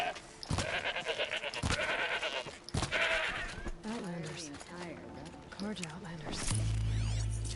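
Several goats bleat in bursts in Horizon Zero Dawn over busy game sounds and hoof-like clatter, with a voice talking underneath.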